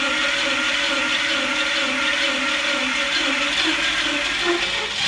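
The engine of an F1 drift build car runs on a dyno as a loud, steady, continuous drone with a slight whirring edge, holding even throughout with no pauses.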